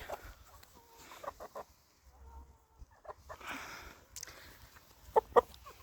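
Bantam Faverolles hens cluck softly in short, scattered bursts at close range, with a couple of sharper clucks near the end and quiet pauses between.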